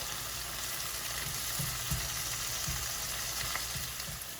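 Paella ingredients frying with garlic paste in a pan, a steady dense sizzle with light scraping and stirring taps throughout, close and fairly loud with no talking.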